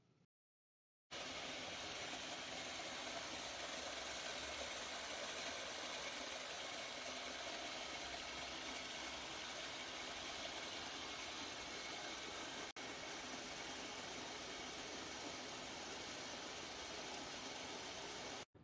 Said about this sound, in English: The pump is able to withstand 10 minutes of dry run with no impact to performance